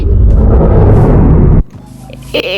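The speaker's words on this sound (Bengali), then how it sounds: "এই যে ফাটছে" TNT explodes in a video game, a loud, dense rumbling blast that fills the first moment and then cuts off abruptly, leaving quieter scattered sounds afterward.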